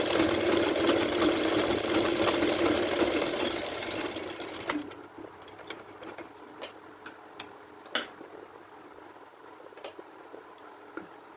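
Sewing machine stitching blouse fabric, a steady dense whirring run for about four seconds, then stopping, followed by scattered light clicks and taps of handling.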